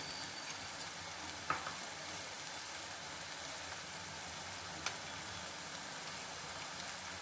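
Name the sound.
drumsticks with spices cooking on low flame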